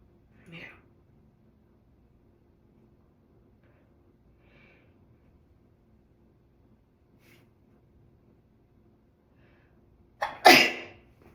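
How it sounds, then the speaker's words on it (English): A person sneezes in two bursts: a small sneeze near the start, then a long stretch of quiet with faint breathing, and finally one loud, sharp, close sneeze near the end. "I sneezed all over myself."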